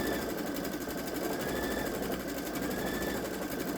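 Babylock Solaris Vision sewing machine running a machine-embroidery stitch, a steady fast mechanical whir and rapid needle chatter that stays loud and even throughout with no voices.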